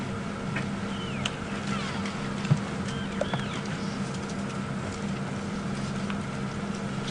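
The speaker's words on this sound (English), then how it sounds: "A go-away bird calling in the distance." A go-away bird calls in the distance during an afternoon safari drive at Djuma Game Reserve, faint and intermittent over a low steady background hum.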